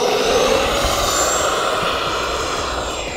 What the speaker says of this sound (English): What a beautiful takeoff.